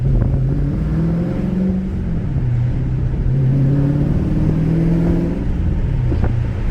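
A Dodge Challenger Scat Pack with a six-speed manual and Drag Pack cruises in sixth gear at about 900 RPM and 40 mph, a steady low engine drone with gently shifting tones and road and wind noise, heard from inside.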